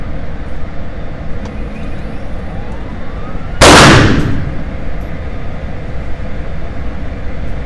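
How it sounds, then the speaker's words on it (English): A single loud, close gunshot from an M&P Shield 9mm pistol at an outdoor shooting range, a sharp crack with a brief fading tail over steady background rumble, alone with no talking. "I'm just gonna shoot, and we're gonna see if I can get all 20 rounds on the plate at 15 yards."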